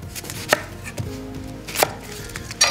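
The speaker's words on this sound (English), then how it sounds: "So I'm gonna cut this in half," A knife slices a big sweet onion in half on a cutting board, giving a few sharp, close chopping knocks spaced apart over a low kitchen background hum.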